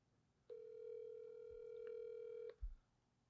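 A phone rings on an incoming call: one sustained electronic tone of about two seconds, clean and alone, followed by a brief low thump.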